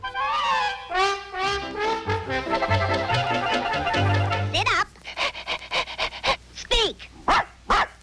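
A cartoon dog pants rapidly in rhythmic huffs, then lets out a series of short, sharp barks and yips, with a voice speaking over parts of it.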